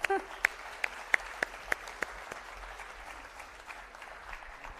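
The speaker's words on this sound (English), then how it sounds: "I think we need to have a big round of applause first for Netra." Applause after a Bharatanatyam arangetram dance recital, with a few sharp, loud, separate claps near the start over a fainter spread of audience clapping that thins into quiet room noise.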